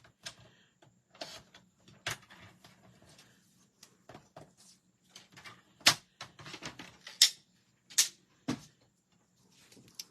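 A paper trimmer slices a thin strip off a piece of cardstock, with quiet sliding and scraping at the start, then several crisp, sharp snaps and clicks close by.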